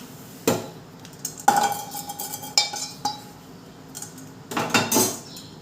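Roasted rice rava is scraped from a metal pan onto a plate, with a string of close clanks, scrapes and taps of a spoon against the pan, sparse at first and bunching toward the end.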